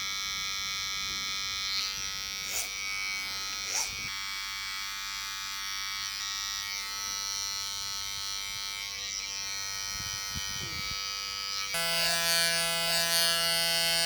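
Electric hair clippers buzz steadily while tapering the edges of a haircut for a receding hairline, a close continuous hum with short pauses and shifts in pitch as the blade moves, and no talking.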